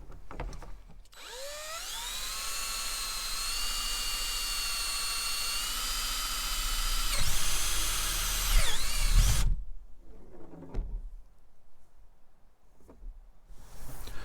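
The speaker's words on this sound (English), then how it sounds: "Now we'll drill straight through." A power drill whines steadily at high pitch while boring a 1/4-inch hole straight through a pole for a homemade gear sled, then the motor stops abruptly, leaving quiet handling noises.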